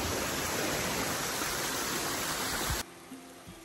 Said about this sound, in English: here is such a beautiful waterfall